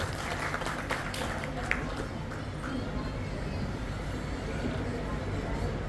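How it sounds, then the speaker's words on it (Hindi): Applause greets a speaker at a formal gathering, a steady, moderately loud patter of clapping from the audience over a low background rumble, lasting the full six seconds. "जोरदार तालियों से स्वागत करेंगे श्री के शर्मा जी का।"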